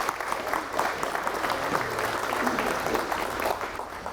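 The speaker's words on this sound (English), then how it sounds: "So I think you need to give the council a big round of applause." An audience at a tribal food distribution center ribbon-cutting ceremony in Broken Bow gives the council a sustained round of applause, a dense, even clatter of many hands lasting the whole stretch.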